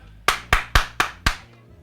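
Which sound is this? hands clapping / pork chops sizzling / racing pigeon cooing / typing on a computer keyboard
hands clapping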